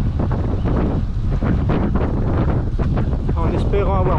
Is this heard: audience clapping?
no